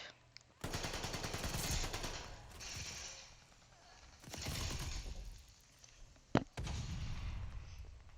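Sustained automatic gunfire in Call of Duty: Vanguard, long continuous bursts separated by short pauses, with one sharp louder crack near the end, no voices heard.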